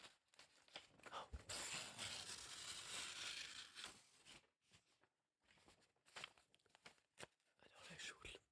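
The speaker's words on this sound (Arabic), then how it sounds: "إذا كنت عاوز تقطع ورق الشغل أديني قطعتهولك." Sheets of work paper being torn and crumpled, with long close ripping bursts and shorter crinkles between pauses, loud against a quiet background.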